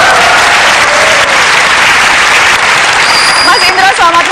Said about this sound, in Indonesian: Saya ingin kita kasih tepuk tangan ke salah satu pentolan Warkop.